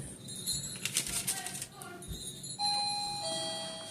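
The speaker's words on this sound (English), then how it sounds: "Somebody's ringing the doorbell." A home doorbell chimes in a kitchen during cookie baking, a bright tone that rings out and sustains near the end, after scattered clatter and children's voices earlier.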